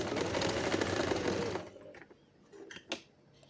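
Sewing machine stitching a shawl collar coat, a fast close rattling run of stitches for about a second and a half, then stopping, followed by a few light clicks and handling sounds.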